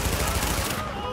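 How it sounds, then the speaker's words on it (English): An explosion goes off amid gunfire in the PS4 shooter The Division. The roar is loud, dense and rattling, packed with rapid impacts, and it fades after about a second. "Explosion!"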